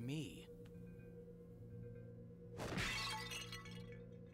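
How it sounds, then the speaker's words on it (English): A generic vase shattering in Shadow the Hedgehog, one sharp crash of breaking ceramic over steady game music, following an earlier brief clink. "That generic vase shattering sound gives me so much PTSD"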